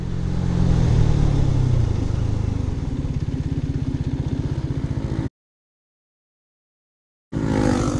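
A vehicle in road mode brakes hard from 60 to 0 km/h on its rear brakes: a loud engine drone falls steadily in pitch as it slows, then cuts to silence before the engine note briefly returns.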